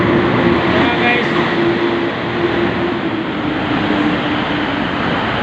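Train rumble under the MRT elevated rail line at Kamuning, a broad, steady roar with a faint tonal hum running throughout, close and loud, with a voice talking over it.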